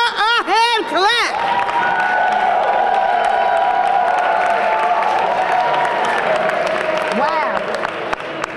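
Audience applause with cheering and whoops at a women's awards ceremony in Jersey City, honoring a burlesque performer; a steady, sustained crowd roar with shouted voices near the start and a voice rising out of it later.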